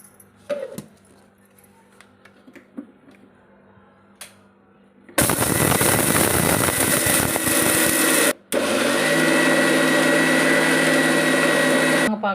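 A mixer grinder grinding spices for idli podi starts with a loud, steady whirring roar, stops briefly, then runs again at full volume.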